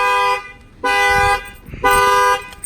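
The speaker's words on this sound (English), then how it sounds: "you'll see now the alarm will fire off" A 2019 GMC Sierra pickup's alarm blares after a bang on the window, sounding three loud, steady horn-like tones, each about half a second long, separated by brief gaps and ringing close and alone.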